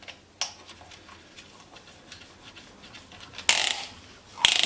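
A bolt is driven through a heavy-duty shock mount on a Tamiya BearHawk, making faint, close ratcheting clicks in a steady rhythm, followed by two louder, harsher mechanical bursts near the end.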